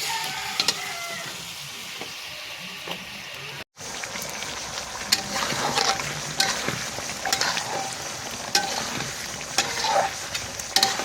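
Cooking over a clay stove, with meat and a haleem mixture in the pot, gives steady sizzling and frying with repeated scraping stirs and crackles close by. A short gap briefly interrupts the sound.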